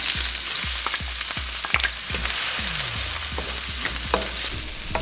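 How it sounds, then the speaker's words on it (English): Onions sauteing in hot oil for fried rice, a steady loud sizzle with repeated sharp scraping strokes of a utensil against the pan, close up and without voices. "I'm going to saute the onions until translucent"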